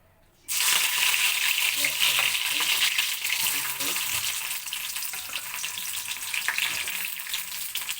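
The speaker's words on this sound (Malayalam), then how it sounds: "കടുക് പൊട്ടിക്കുകയാണ്" Mustard seeds spluttering in hot coconut oil in a pan, a sudden loud sizzle starting after a brief quiet moment and continuing as dense crackling and popping that eases slightly over several seconds.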